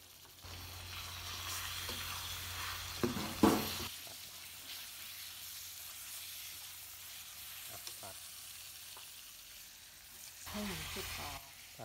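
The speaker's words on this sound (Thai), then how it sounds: "ผัดหมูให้สุก" Pork stir-frying in a pan gives a steady sizzle throughout, with a few louder scrapes and stirring clatters around the start and near the end.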